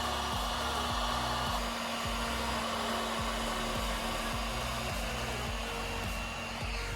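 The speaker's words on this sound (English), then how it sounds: "this paint is it actually does dry really quickly, especially with a heat gun on it" A heat gun blows steadily and loudly up close, drying matte black paint on a fiberglass bumper delete for an Audi R8, with an unbroken whooshing hum throughout.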